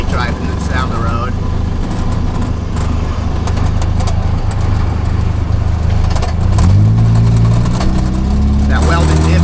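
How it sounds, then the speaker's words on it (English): A car engine with a welded differential and an open EGR idles loudly and then rises as the throttle is blipped near the end, its exhaust rattling harshly. Someone talks over it throughout. "Like when I give it a little gas, you can hear it like rattling. The exhaust is a little loud still."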